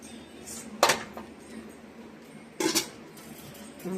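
A cooking pot clanks shut twice under its lid in a home kitchen where sweet potatoes and eggs are being boiled; two short metallic knocks, near and moderately loud, separated by a quiet pause.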